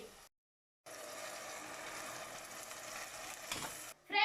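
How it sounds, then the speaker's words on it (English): Tomato and mint puree going into a hot pan of sauteing onions for chicken biryani, a steady close sizzle and frying hiss after a brief silence, with a short clatter near the end. "Now I'm going to add the tomato and mint puree."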